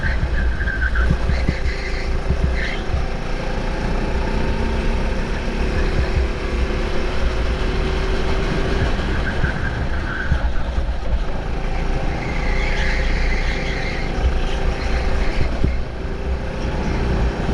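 A racing kart engine droning continuously through a 25-minute karting league race, loud and close with a steady buzzing pitch that wavers slightly as the kart brakes and corners.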